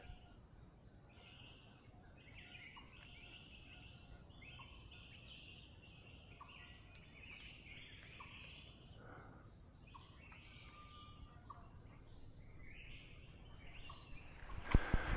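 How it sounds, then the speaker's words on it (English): Birds call and chirp in a forest near Chiang Mai. The short, scattered notes sound faint and distant over a low, steady background hush. "Just stop and listen to the birds for a moment."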